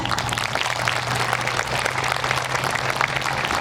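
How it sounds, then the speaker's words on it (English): An audience gives a round of applause at a high school senior awards ceremony honoring scholars, a continuous crackle of many hands at moderate level over a low steady hum. "One last round of applause."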